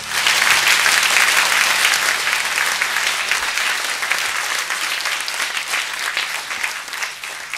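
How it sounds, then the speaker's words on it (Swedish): A concert audience in Överklinten, Sweden, claps loudly and steadily in welcome, a sustained wave of applause that gradually tapers off slightly toward the end. "vi hälsar dem hjärtligt välkomna med en stor applåd"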